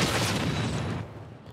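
A loud cannon blast in Fortnite with a long rumbling roar that gradually fades, like a heavy cannon shot echoing out.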